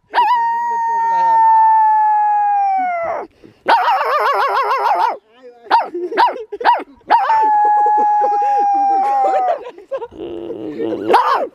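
A woman mimics a dog with her voice, giving long sustained howls broken by short sharp barks and yips, loud and close, with brief pauses between bursts.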